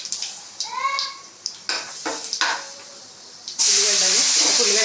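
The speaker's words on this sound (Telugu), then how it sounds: "తగినంత జీలకర్ర ఆవాలు అయితే వేసుకోవాలి." Cumin and mustard seeds go into a hot pan for a Telangana-style spiny gourd curry. Light clinks and scraping come first with a brief voice, then a loud, steady, close sizzle bursts up and continues to the end.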